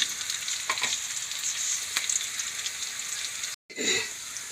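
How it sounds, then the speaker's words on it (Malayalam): Egg curry gravy with thick first coconut milk bubbling and sizzling in a pan, a steady close frying hiss with a few soft stirring scrapes and a brief break near the end. "ഒന്നാം പാൽ ഒഴിച്ചിട്ട് തിളയ്ക്കണമല്ലോ."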